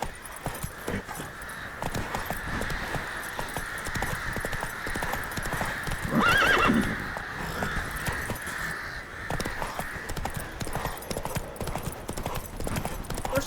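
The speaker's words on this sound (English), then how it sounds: "Horses!" Horses clip-clop at a steady galloping pace through The Witcher 3, hooves drumming loud and continuous over ambient noise, with crow caws scattered around and a brief louder whinny-like burst in the middle.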